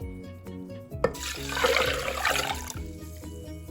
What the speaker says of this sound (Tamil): இதனால நான் 6 கப் தண்ணி சேர்க்கிறேன்.